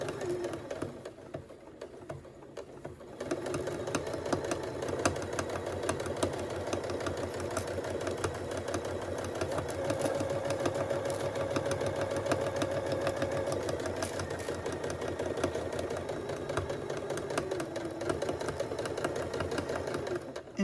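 A sewing machine stitches stuffed fabric letters in a long, steady, continuous whirring run that begins after a quiet moment and stays close and even throughout.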